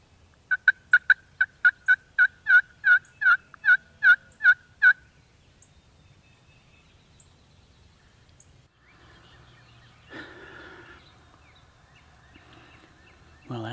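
A wild turkey gobbles in a rapid burst of about a dozen loud, ringing calls over five seconds, roosted at a distance across a field in Tennessee during the spring opener, followed by quiet woodland with faint rustling.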